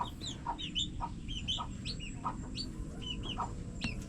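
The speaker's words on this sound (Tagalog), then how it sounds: "Ang cute ng mga sisiw," Young chicks on a farm give high, short peeps and chirps again and again, with a few clucks among them, all over a steady low background rumble.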